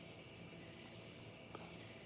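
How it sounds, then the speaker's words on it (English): Crickets chirp in steady high bursts at night, two short trilling pulses standing out over a faint, hissy background with no one speaking. "you can hear the crickets?"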